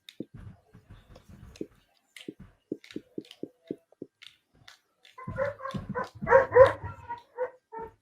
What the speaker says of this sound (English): The dog is excited.